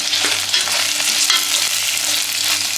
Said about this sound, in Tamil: புதினா, கொத்தமல்லி இதையும் சேர்த்து நல்லா வதக்கிடுவோம்.